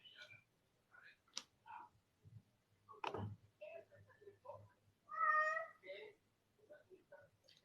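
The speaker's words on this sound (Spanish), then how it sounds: "El gatito está llamando a Raúl." A small kitten calls with a few meows scattered between a man's speech, close and moderately clear.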